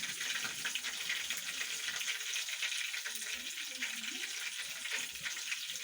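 Loud, steady sizzling as pre-made pakoras go into hot oil with spices in a kadhi tempering, a dense crackling hiss that runs unbroken throughout with no talk.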